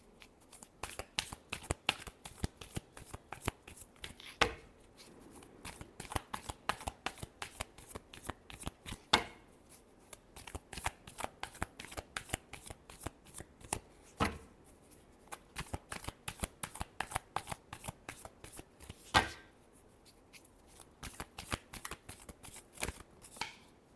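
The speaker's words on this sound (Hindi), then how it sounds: "Last shuffle." Tarot cards shuffled by hand in rapid riffling bursts, a long run of crisp close flutters and snaps repeating in waves, with no talking.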